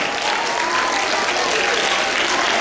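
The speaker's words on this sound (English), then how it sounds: "Please give them a huge round of applause." An audience applauding award recipients from a school, loud continuous clapping from a large crowd filling the whole stretch without pause.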